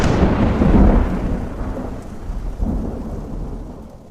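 Heavy thunderstorm with steady rain drenching a road, low rolling thunder swelling loud near the start and again later, constant broadband downpour underneath, no voices.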